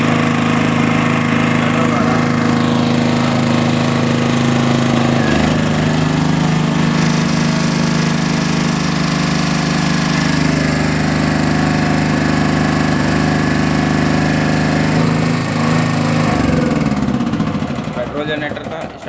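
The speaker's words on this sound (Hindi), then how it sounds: "जनरेटर था स्टार्ट किया हमने, देखिए एक एक में स्टार्ट हो गया" Honda petrol generator running close and loud, a steady dense engine drone with a low throbbing hum that shifts slightly in pitch partway through, then winds down near the end; a voice talks beneath it.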